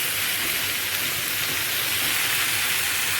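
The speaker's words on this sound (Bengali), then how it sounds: "টমেটো দেওয়া হয়ে গেছে, কষছি এখন আমি।" Pumpkin, beans and tomato with turmeric, salt and spices sautéing in a pan, a steady, close broadband sizzle and crackle running evenly throughout with no voices.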